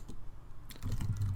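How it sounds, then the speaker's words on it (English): A computer keyboard tapped in a short burst while a LinkedIn message is written, quiet and close, the keystrokes bunching into a quicker run toward the end. "So we'd write something like, hey Stephanie, hope you are well."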